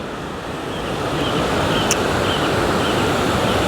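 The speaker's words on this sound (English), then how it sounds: "Waterfall." Constant roaring rush of a waterfall at Low Force on the Pennine Way, loud and close with some wind buffeting the microphone, building slightly and holding steady throughout.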